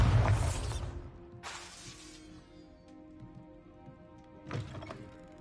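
Bombarda blasting spell impacts in Hogwarts Legacy: a heavy thudding crash at the start, a second burst about a second later, and another smaller crash near the end, all close and loud over a faint game ambience.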